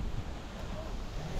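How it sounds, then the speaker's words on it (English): Wind blowing outdoors at a sale, a steady broadband rush buffeting the microphone with low rumbling gusts, moderately loud and continuous with no talk. "This is so windy."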